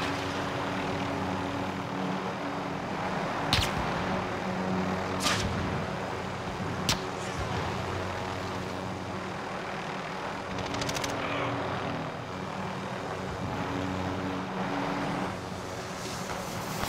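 Aircraft engine drone in Call of Duty: Modern Warfare, a steady propeller-like hum that holds throughout, with several sharp bursts and bangs cutting in, and no talking.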